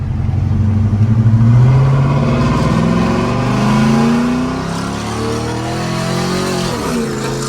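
A loud modified car engine revs repeatedly, the pitch rising and falling with a throaty, rumbling roar close by.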